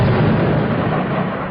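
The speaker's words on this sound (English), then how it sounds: "the sound of more explosions" Explosions in Jobar, Damascus, heard as a loud, continuous low rumbling blast that rolls on without a break for the whole moment, with no voices.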